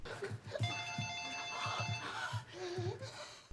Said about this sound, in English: But then the home phone begins to ring.